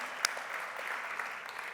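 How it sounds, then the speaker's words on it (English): Applause from a conference audience at a keynote event in Miami, a steady wash of clapping with one sharper clap near the start, fairly distant and moderate in level. "How about another round of applause for Mo 11 and the entire keynote team"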